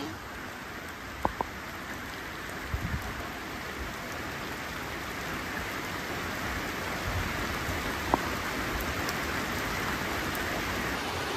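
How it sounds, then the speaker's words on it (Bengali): A heavy village downpour drums as a dense, steady hiss of rain on surfaces that holds at the same level throughout, with a few faint clicks and no talk. "এখন আবার কিরকম ঝুম বৃষ্টি।"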